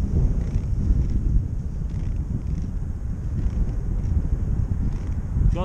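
Cold wind blows hard on a climbing mountain road, a steady, loud low roar and buffeting against the microphone with no break and no talk.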